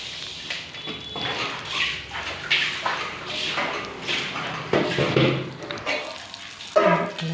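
Masala-coated fish sizzling and frying in a pan, a steady crackling hiss with scraping and turning noises from the pan throughout.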